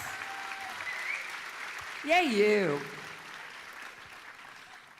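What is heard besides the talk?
audience applause for students at a commitment ceremony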